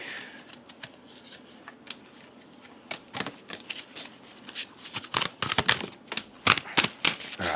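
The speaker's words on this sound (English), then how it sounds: "I find those ones the most difficult to shuffle" Tarot cards are shuffled by hand in quick crisp riffling bursts, sparse at first and then denser and louder, with close papery flicks and snaps.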